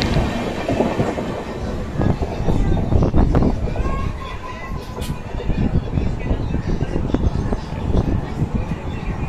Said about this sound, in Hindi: Indore intercity express.